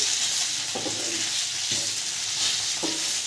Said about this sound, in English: Next in, I'm adding in some roughly chopped onions.